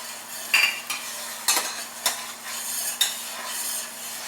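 Long-handled stainless steel spoon stirring very hot blackberry jelly in a pot, with several scraping clinks and strokes over a steady bubbling hiss.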